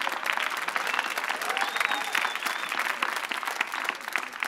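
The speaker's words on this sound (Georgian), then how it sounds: "ტაშით შევეგებოთ." Studio audience on a Georgian television comedy show applauds as a volunteer is called up, a dense, steady wash of clapping from many hands filling the room for several seconds.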